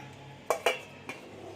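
A lid set over a bowl of semolina cake batter, two quick metallic clanks close together, then a lighter clink a moment later against quiet background, no voices.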